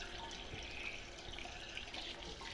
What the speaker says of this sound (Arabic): المواسير دي هنبدأ نعدي فيها مية برضو، بحيث لو فيها اي شوائب ولا حاجة هتنضف معايا